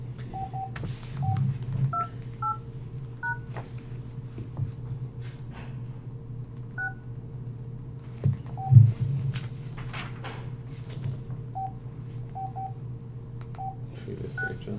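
An old telephone keypad sends short, separate dialing tones in uneven bursts over a low steady hum, with a soft knock near the middle.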